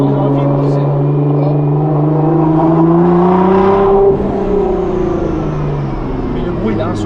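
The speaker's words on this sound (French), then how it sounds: "Le son à l'échappement, c'est un truc de fou." Loud, sustained engine and exhaust roar from a 1500 hp Nissan GT-R, pitch climbing steadily as it revs up and then easing off, with a constant drone underneath throughout.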